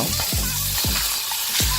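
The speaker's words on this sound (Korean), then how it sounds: "지글지글 소리가 아주 환상적이네요." Loud, steady sizzling of steak searing in a hot frying pan over high heat, with a few sharp scraping or stirring sounds recurring throughout.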